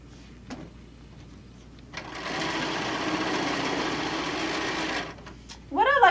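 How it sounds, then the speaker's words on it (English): A sewing machine stitches across the bottom of a fabric tote bag made from a panel with fusible fleece, running in one steady, fairly quiet burst of about three seconds, followed by a brief voice at the end. "Put our presser foot down and then start stitching across the bottom."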